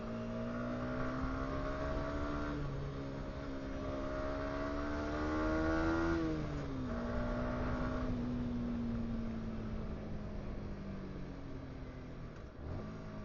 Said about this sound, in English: I don't usually get this much traffic, to be honest.